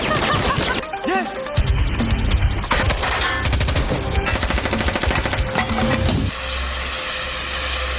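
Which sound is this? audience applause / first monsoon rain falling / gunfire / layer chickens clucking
gunfire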